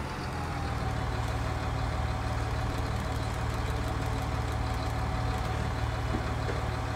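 Steady low idle of a tractor engine in Farming Simulator 19, an even continuous rumble with a faint mechanical hum, constant and close for the whole stretch with no talk.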